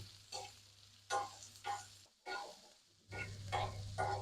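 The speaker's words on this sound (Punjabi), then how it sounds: "ਤੇ ਇਹਨਾਂ ਨੂੰ ਆਪਾਂ ਤਵੇ ਦੇ ਉੱਪਰ ਤੇਲ ਪਾ ਕੇ ਗਰਮ ਕਰਕੇ ਵਿੱਚ ਪਾ ਦੇਣੇ ਸਾਰੇ ਤੇ ਫਿਰ ਕੜਛੀ ਦੀ ਮਦਦ ਨਾਲ ਜਾਂ ਚਮਚੇ ਦੀ ਮਦਦ ਨਾਲ ਆਪਾਂ ਇਹਨੂੰ ਹਲਾਈ ਜਾਣਾ" Forest bitter gourd (jhad karela) frying in hot oil on a tawa while a ladle stirs it, with bursts of sizzling and scraping coming in uneven waves and a steady low hum beneath, close and moderately loud.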